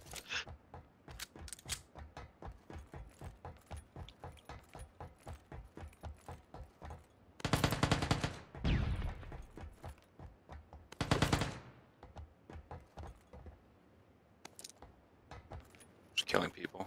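Rapid automatic gunfire from the battle royale video game PUBG, a steady stream of shots with louder bursts and blasts, heard with players talking over it.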